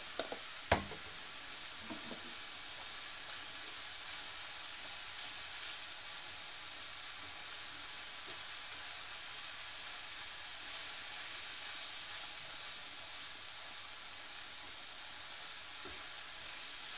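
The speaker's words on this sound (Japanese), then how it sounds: "人参を加えて混ぜながら炒めます" Hijiki seaweed and carrots stir-fry in chicken oil, a steady soft sizzle with a couple of faint knocks at the start, continuing evenly throughout.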